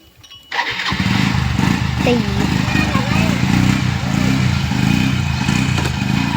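A motorcycle engine starts up after a brief pause and settles into a loud, steady idle close by, with voices talking over it.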